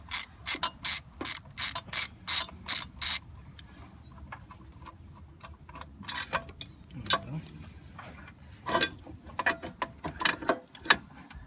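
A ratchet clicks in quick, even bursts while loosening the top alternator bracket bolt on a 2003–2004 Ford Mustang SVT Cobra engine, followed by scattered metallic taps and handling of parts, close and clear.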